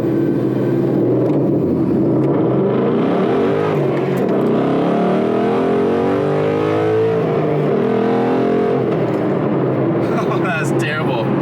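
A Ford Mustang Boss 302 with a manual MT-82 gearbox launches hard on a 0-60 run, its engine roaring loudly and steadily throughout with rising and falling revs.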